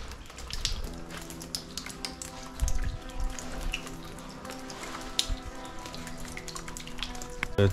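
Rain drips inside an abandoned brickworks, with scattered irregular drops tapping on surfaces close by over a quiet, faintly humming background, with no talking.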